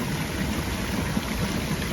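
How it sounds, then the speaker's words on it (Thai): Water flows steadily at an abandoned waterfall, a continuous low rushing wash with no pauses, heard alone and fairly close. "เราดูน้ำไหลด้านล่าง"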